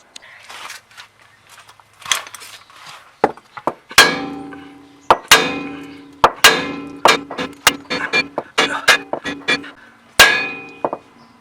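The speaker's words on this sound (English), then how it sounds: "you're gonna want to use a pretty big hammer. This is a mini sledgehammer" Repeated metal clangs from a roughly 4-pound mini sledgehammer striking the lower ball joint of a Honda S2000, sharp ringing blows at an irregular pace, sparse at first, then a rapid series of loud close hits.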